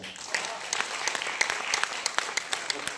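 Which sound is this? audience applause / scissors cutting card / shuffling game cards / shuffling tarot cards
audience applause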